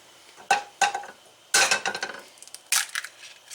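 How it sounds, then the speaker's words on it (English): A few sharp cracking taps against a hard edge, followed by crunchy shell fragments and light clinks, close and without any talking. "Let's crack that egg open while that water's over there boiling."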